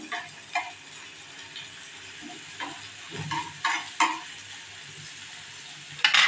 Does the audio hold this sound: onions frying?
yes